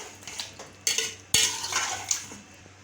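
Yogurt is stirred into chicken karahi in a pot, with a few sharp clanks of a utensil against the metal pot and soft scraping between them, close and fairly quiet.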